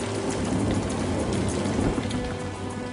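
A heavy rainstorm pours down over the Celtic Chiemgau region, a loud, continuous roar of rain with a low rumbling undertone, steady throughout and with no voices.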